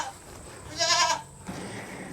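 A goat at a livestock sale barn lets out one clear, loud, wavering bleat lasting about half a second, close by over quiet barn background noise.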